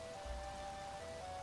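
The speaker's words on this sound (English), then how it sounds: "I wish it would stop frickin' raining, though." Steady rain falling in the medieval survival game Life Is Feudal, a constant even hiss with low rumble beneath, quiet and unbroken throughout.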